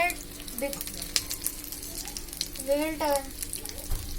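Chicken patties fry in a pan with a soft, steady sizzle up close, while a person talks over the cooking sound.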